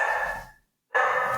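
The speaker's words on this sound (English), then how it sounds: "That's my dog." A dog barks in the background of a home podcast call, two loud bursts separated by a short silence, with no speech over them.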